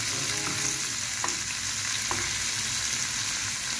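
Spinach sizzles steadily in a hot pan with onion, a dense crackling hiss broken by a few soft scrapes of stirring.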